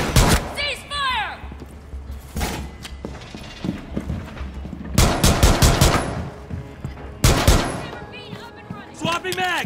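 Gunfire in Rainbow Six Siege comes in sharp loud bursts and single shots separated by short gaps, mixed with game voice lines and other in-game effects.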